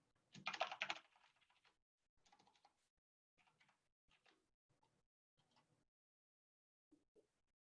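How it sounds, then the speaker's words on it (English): Typing on a computer keyboard, a brisk flurry of key clicks at first followed by sparse, scattered taps with pauses between, faint and close in a quiet room. "I'm just typing random things"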